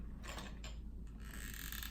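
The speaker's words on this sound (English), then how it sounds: "I have a squeaky, squeaky glue gun. It is very, very squeaky." Squeaky, well-used glue gun squeezed while layering an ornament wreath, giving several quick faint creaks and squeals in a row against a quiet room.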